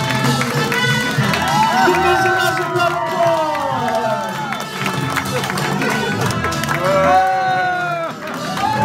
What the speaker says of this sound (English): Let's give this a massive round of applause!